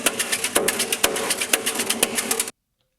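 A mechanical percussion loop at 123 BPM from the Mechanical Metropolis Digitakt sample pack, with clanking, typewriter-like metallic hits in a steady driving rhythm, loud and close, cutting off abruptly into silence.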